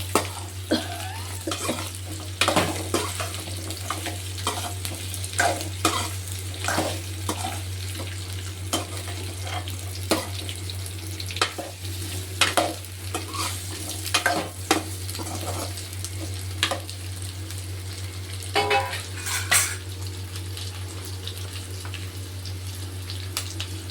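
Onions and potatoes frying in a pan for veg pulao, a steady soft sizzle with repeated stirring scrapes and clinks throughout, close and moderately quiet, with no talking.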